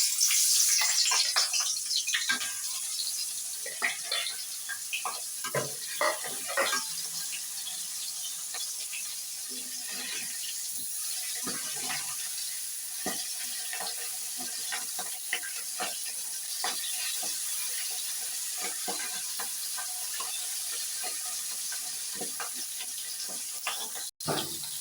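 Pieces of hilsa fish coated in turmeric and chili fry in hot oil in a pan, giving a steady, close sizzle and hiss with scattered pops and crackles throughout.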